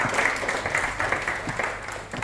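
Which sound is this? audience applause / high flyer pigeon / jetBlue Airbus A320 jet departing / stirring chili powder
audience applause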